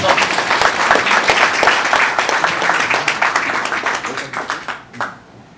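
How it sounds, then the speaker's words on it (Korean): Strong audience applause at a Korean university law alumni association year-end gathering, welcoming a speaker; a full crowd claps steadily and loudly, then it breaks into scattered claps and fades out near the end. "큰 박수로 환영해 주십시오."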